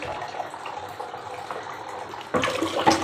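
Water poured to wash away spilled rice starts suddenly near the end as a close, splashing rush, after a stretch of faint background noise.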